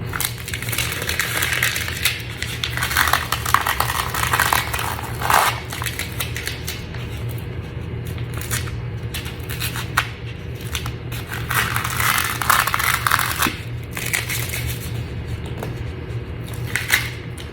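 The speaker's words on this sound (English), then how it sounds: "So this is the satisfying part. It's pulling back the tape." Masking tape being peeled back off a freshly painted surface, long ripping and crackling pulls repeated in several stretches, close and clear with no talking.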